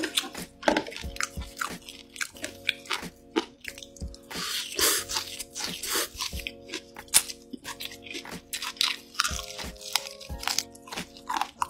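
Loud, close crunching bites and chewing of raw seafood repeat in irregular bursts, crisp and wet, over a low steady background hum.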